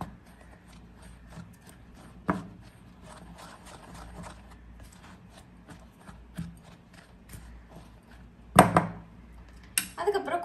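Nendran banana batter being stirred in a bowl, with scattered clinks and scrapes of a utensil against the dish, a few louder knocks near the end, and a voice talking throughout.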